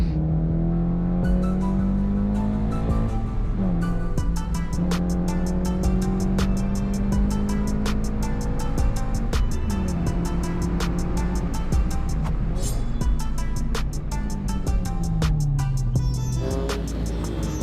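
A race car with a roll cage pushes through a hot lap on a track day. The engine revs climb steadily, then break at each upshift, over and over, loud and continuous from inside the cabin.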